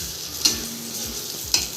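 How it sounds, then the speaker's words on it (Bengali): Ginger and chilli stir-fried in a pan, a close steady sizzle with two quick spatula scrapes about a second apart. "এবার এটাকে ভালো করে নাড়াও, একটু ভাজা ভাজা করো"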